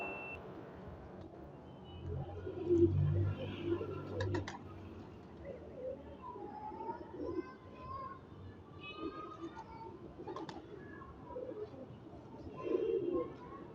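Soft cooing from a breeder pigeon comes in low, throaty bursts, with faint clicks and rustles around it and a voice talking quietly nearby.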